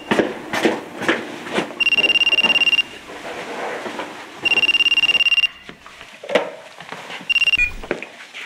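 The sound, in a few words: telephone ringing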